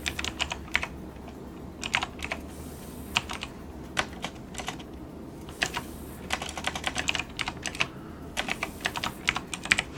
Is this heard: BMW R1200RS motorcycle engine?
no